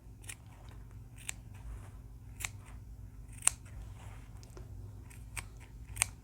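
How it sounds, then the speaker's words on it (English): Scissors snip into the curved seam allowance of sewn fabric for a doll backpack, giving about seven quiet, separate clips spaced roughly a second apart over a low steady hum. "Clip the curves around here."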